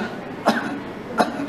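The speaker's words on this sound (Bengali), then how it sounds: "একটা কাশি দেন।" A patient coughs twice on request during a surgical physical examination, two short sharp bursts about 0.7 seconds apart, close and moderately loud over quiet room noise.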